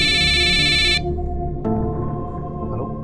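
A mobile phone rings with an incoming call, its bright electronic ringtone sounding for about a second before cutting off, leaving a steady low hum and a few softer tonal blips afterward.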